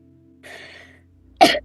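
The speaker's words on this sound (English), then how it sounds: "When I was going to edit out this part of me coughing" A single person coughs once, sharp and close, after a brief raspy throat-clearing breath; the cough comes at the end on its own, with no other voices.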